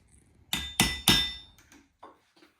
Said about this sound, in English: Now I can prick punch them and mark them